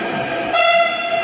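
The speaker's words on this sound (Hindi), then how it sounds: "मेट्रो आ गई है, अब" A Delhi Metro train hums at a platform, its electric whine rising into a sustained high tone as it arrives, close and steady.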